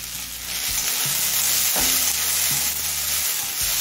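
Chopped tomato fries in a pan with onion, crushed cardamom, cloves and a piece of cinnamon, making a loud, continuous sizzle with a low, steady hum and occasional stirring knocks; no voices.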